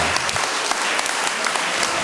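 Steady crowd applause fills a council meeting room, dense continuous clapping with no pauses across the whole short stretch.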